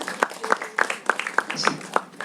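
A few people clap in a sparse, uneven rhythm at a dance event, individual claps distinct rather than a full ovation, with a bit of background voice.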